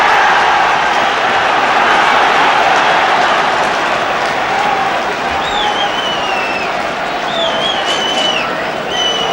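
Football stadium crowd at a Manchester United match reacting angrily to a penalty decision, a loud continuous roar with some whistles rising from the mass of fans throughout.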